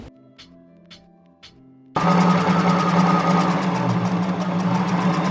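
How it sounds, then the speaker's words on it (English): An overlocker stitches fabric on a shirt-to-co-ord-set sewing project: a few soft clicks at first, then the machine starts and runs loudly with a fast, steady mechanical whir. "All you have to do now is just overlock these stitches so that they won't come undone whenever they're in the machine."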